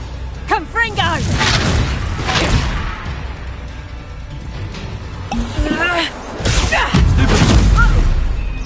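Repeated Confringo blasting-spell explosions in the Hogwarts Legacy video game on PS5, several loud booms and crashing impacts in quick succession, mixed with shouted voices and other game effects.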